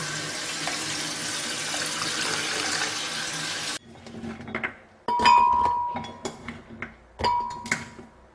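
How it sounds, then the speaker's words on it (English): Tap water runs steadily from a kitchen faucet for a few seconds, then stops, followed by clinks and splashes as lukewarm water is mixed in a container for making coconut oil from coconut milk. "So I'm going to mix this with my tap water"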